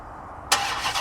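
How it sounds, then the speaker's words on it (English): A 707 bhp Dodge Hellcat engine cranks and fires midway after a quiet pause, bursting into a loud, close, broadband roar that settles into a steady idle. "it does come with engine start"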